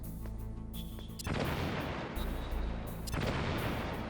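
Explosives detonating in the Metal Gear Solid video game: three loud, heavy booming blasts go off one after another in separate bursts, each a broad rumbling crash, close and dominant with no talking.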